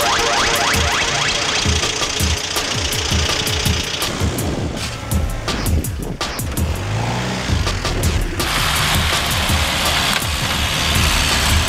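A 1970 Land Rover Series IIA engine runs close by with a rough, loud, knocking idle, its chugging rumble continuing throughout with some rattles and a brief shift in tone midway.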